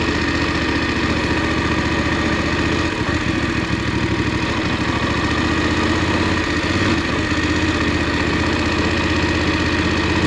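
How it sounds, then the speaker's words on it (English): Close and steady, the engine of a Voge 900 DSX motorcycle chugs along at low revs in first gear, a continuous mid-pitched drone with a faint knocking pulse, and nobody speaks. "I'll put it down into first and see if we can do below 20."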